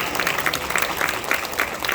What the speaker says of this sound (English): You give yourself an applause right now